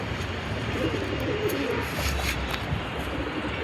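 A pigeon coos softly in low, rolling notes against a steady hiss of background noise.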